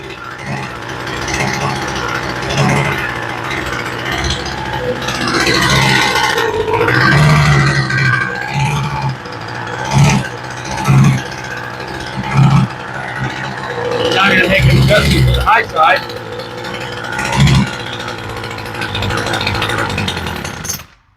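A Homelite weed eater engine that has sat unused a long time runs at half choke, a loud, steady buzzing drone with periodic surges, close to the mic, with someone talking over it.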